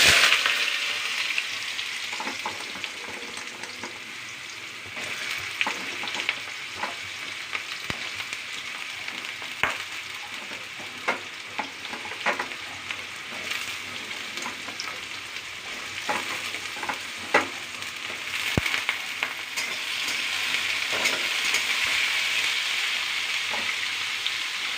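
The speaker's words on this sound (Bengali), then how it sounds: "আমার তেলটা গরম হয়ে গেছে। আমি ফোড়নে দিলাম 1 চামচ গোটা জিরে। জিরেটা হয়ে গেছে, আমি আলুটা দিয়ে দেব।" Whole cumin and potatoes sizzle and fry steadily in hot oil, a dense continuous crackle with occasional stirring clinks, close and fairly loud, with no talking.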